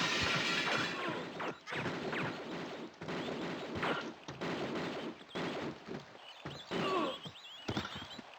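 Repeated gunfire from armed enemy guards in Tomb Raider 2, Bartoli's Hideout level, loud bursts of shots and impacts in fast irregular succession, nearly continuous with brief gaps, no talk.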